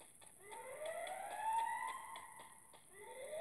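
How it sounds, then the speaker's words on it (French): A wailing siren from the video game Free Fire rises and falls in long sweeping tones, steady and moderately loud with a faint repeated clicking underneath, no voices. "Ah, par contre, cette sirène,"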